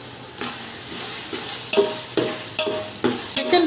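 Chicken pieces fry in a biryani pot for Pondicherry chicken thokku biryani, with a constant oily sizzle broken by a regular series of stirring scrapes, about seven strokes, close and clear.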